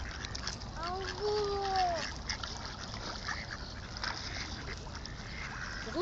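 Ducks on a pond give several drawn-out quacks and calls over a busy, noisy outdoor background with some splashing, moderately near, while people talk nearby.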